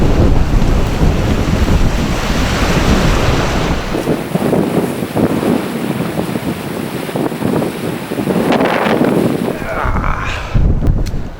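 Strong wind buffets the microphone beside a Scottish hill loch, a loud continuous roar with gusty swells and a brief lull near the end.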